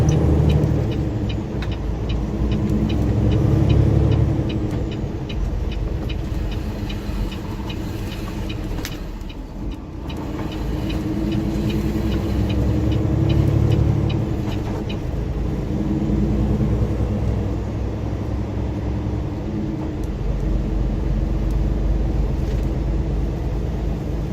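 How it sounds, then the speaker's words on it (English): A truck with a faulty automatic braking system runs steadily, giving off a loud, continuous engine drone with a slight swell and dip partway through and no voices. "Truck and its automatic braking system is not working right."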